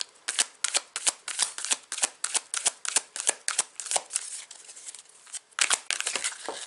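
Tarot cards being shuffled by hand: a steady run of quick papery riffles and slaps, close and fairly loud, with a short pause before a final flurry of shuffling.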